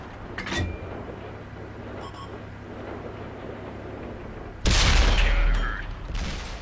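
A tank cannon fires a HEAT shell in World of Tanks, a single loud blast erupting near the end after a low engine drone, followed by a decaying rumble and metallic mechanical clatter.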